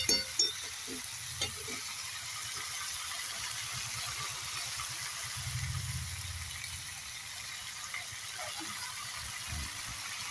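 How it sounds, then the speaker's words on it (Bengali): Chicken pieces being stir-fried for Bengali chicken kosha in a home kitchen, a faint, steady sizzle with repeated rhythmic scraping and stirring of a spatula against the pan, no voices. "মাংস দিয়ে দিয়েছে, এবার কষা হবে।"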